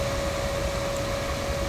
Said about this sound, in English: What you're hearing right now is the fan off the power supply.